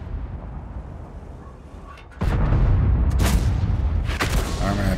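A tank cannon on an M26 Pershing in a video game fires once at about two seconds, a heavy boom that opens a loud, sustained rumble with a second sharp blast just after three seconds and more crackling reports near the end.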